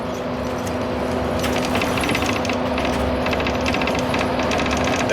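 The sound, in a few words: window rattling in a moving vehicle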